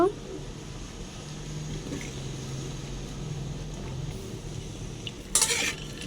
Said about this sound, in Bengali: চুলায় একটি কড়াই বসিয়ে দিয়েছি, এর ভেতরে আমরা সরিষার তেল দিয়ে দিব। আমড়াগুলো দিয়ে তেলে একটু ভেজে নিব।